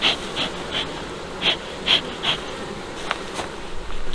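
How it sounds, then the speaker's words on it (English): Many bees in a split beehive buzz together in a dense hum, with individual insects swelling louder as they pass close by. "As you can see, it has a lot of bees."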